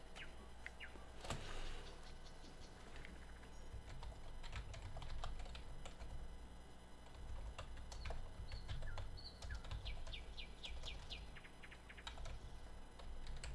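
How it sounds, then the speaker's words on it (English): Steady typing on a computer keyboard, with quick irregular key clicks running through the whole stretch over a soft background hum and no talk. "Typing away on the wrong keyboard."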